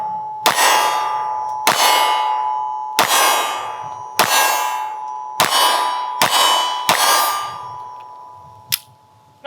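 A string of about eight sharp, loud 9mm shots from a Smith & Wesson M&P9 Shield pistol, each with a ringing tail, fired at a steady pace with a last shot after a short pause.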